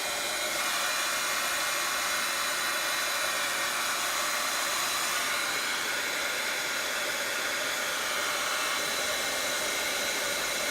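A hair dryer blows steadily and loudly at close range for the whole stretch, drying a craft project, a broad even whoosh with no voices.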